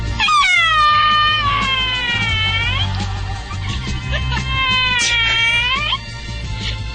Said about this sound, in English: you ran into a singing dog at the America's Family Pet Expo